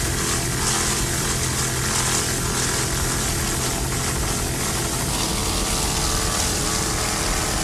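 A 27-foot Kryptonite racing powerboat with a single 500-horsepower Mercury inboard engine runs at full throttle, a steady loud engine roar with wind and water rush holding constant throughout, no voices.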